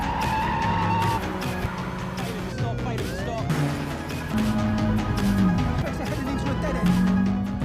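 Car chase between robbers and police, with tires skidding and squealing over steady engine noise from vehicles racing nearby, loud and continuous throughout.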